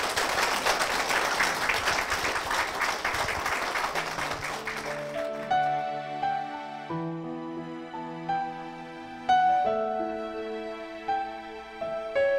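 Applause from a church broadcast audience for two guests, a dense clapping wash for about five seconds that gives way to sustained organ or keyboard chords.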